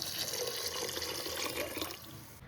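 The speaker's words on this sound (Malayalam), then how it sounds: "എന്നിട്ട് ഇതിലേക്ക് വെള്ളം ഒഴിച്ചു കൊടുക്കുന്നുണ്ട്." Water pours steadily into a cooking pot for mutton soup, a close, continuous splashing rush that eases off toward the end.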